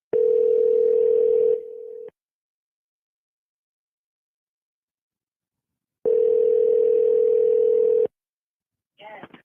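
A telephone dial tone drones loudly and steadily for about two seconds, drops out into silence, then returns for another two seconds, while a cordless phone line is in use for a call back.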